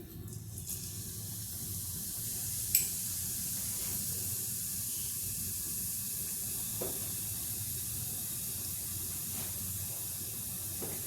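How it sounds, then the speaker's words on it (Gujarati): Cumin seeds sizzle in hot oil for a dhaba-style tempering, a steady close frying hiss that runs throughout, with a couple of brief clinks and no talking. "હવે આપણે જીરાનો વઘાર કરશું."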